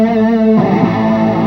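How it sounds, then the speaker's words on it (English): An electric guitar chord rings through a distortion pedal into a BOSS CE5 chorus pedal, first a sustained, buzzing overdriven tone, then a fresh strum at about half a second that swells with shimmering chorus and rings out loudly. "Here is the CE5 with a distortion pedal."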